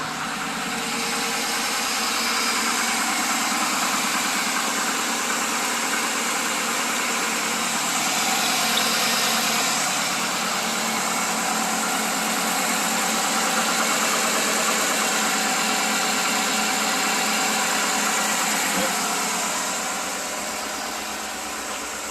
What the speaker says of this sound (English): We'll give her a start and listen to them lifters.